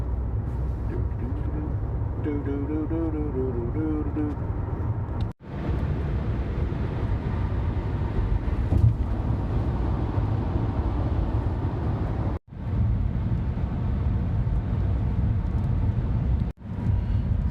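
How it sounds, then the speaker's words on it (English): Steady low engine rumble and road noise from a car driving along backcountry roads in winter, continuous and fairly loud with a few sharp brief dropouts, no talking. "So I've been driving down a lot of these backcountry roads."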